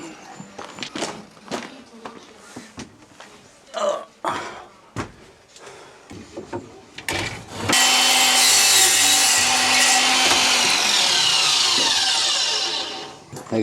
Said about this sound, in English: There's a cordless miter saw in my van.